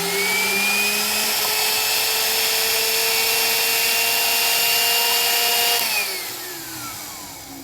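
An old corded Milwaukee power tool runs on a DIY portable power inverter, a loud, steady high-pitched motor whine that holds evenly for several seconds, then drops in pitch as the tool is switched off and spins down.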